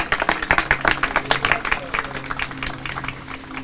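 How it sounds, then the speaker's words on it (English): Audience clapping at a caboose ribbon cutting at the B and O Ellicott City Station, a dense burst of applause that slowly thins out, with a voice speaking over it. "Please give a large round of applause for my friend"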